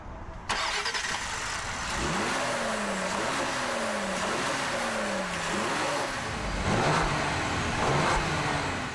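A 2020 Ford Explorer Platinum with a 3-litre twin-turbo V6 accelerating hard, engine note climbing repeatedly through gear changes under steady road and wind roar from inside the cabin.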